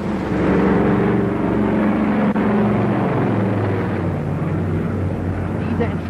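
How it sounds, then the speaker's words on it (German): Propeller transport planes of the Berlin Airlift give a heavy, continuous engine drone that stays loud and thundering under spoken narration. "Diese Entscheidung kam mit dem Donnern der Motoren."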